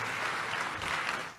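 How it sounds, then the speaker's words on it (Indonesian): A church congregation applauds at a worship service with a dense, steady patter of clapping that lasts the whole short moment and fades slightly at the end, with no voices. "Tepuk tangan sekali lagi yang paling meriah buat Tuhan."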